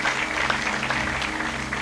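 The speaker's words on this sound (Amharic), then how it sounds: "አጨብጭቡ ስለ ጌታ።" A church congregation claps together in a dense, continuous patter that holds steady at moderate loudness for the whole short stretch, with no break in the sound.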